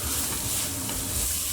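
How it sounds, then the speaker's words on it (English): Onions dropped into hot olive oil in a small pot over high heat, sending up a loud, steady, dense sizzle with a broad hiss that holds for the whole moment. "Once our oil's nice and hot, we'll add in our onions."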